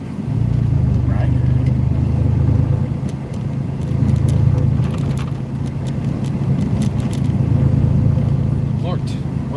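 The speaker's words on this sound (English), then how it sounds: "Lord, why is there so much traffic through here right now?" Steady road traffic from several passing cars rumbles close by, low engine drone holding throughout with brief surges, while someone talks over it.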